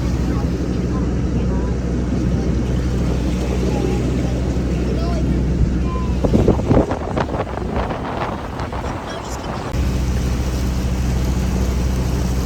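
A Walt Disney World resort boat heading to the Polynesian Village drones low and steady while wind buffets the microphone, with a rougher burst of rushing noise partway through.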